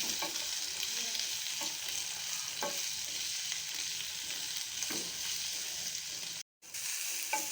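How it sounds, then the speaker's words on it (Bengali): Tomatoes and onions fry in a pan, a steady close sizzle with occasional stirring scrapes, cut by a brief silent gap near the end. "টমেটোগুলো দিয়ে এবার হালকা ভাজা ভাজা করে নিতে হবে।"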